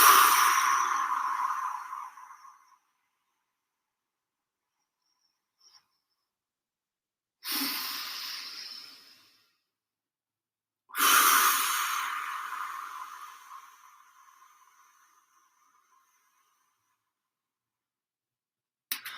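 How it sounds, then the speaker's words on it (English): Slow nasal breathing for a bodyweight workout cooldown: three long, loud airy breaths near the mic, each fading out gradually, separated by stretches of silence. "what we're doing is breathing through our nose for 4 seconds, or 2 to 4 seconds"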